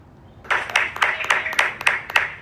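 A short round of clapping starts after a moment of quiet and keeps an uneven rhythm of sharp claps, with a voice mixed in.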